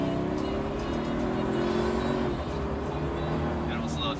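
A car accelerates hard on an autocross course laid out with barrels, its engine note climbing steadily as it pulls away, heard at moderate distance as a continuous droning roar.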